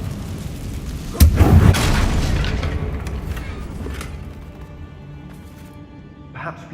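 A Confringo spell blast in Hogwarts Legacy lands as a single loud boom, then a long rumbling decay and faint debris crackle, with a brief later noise near the end.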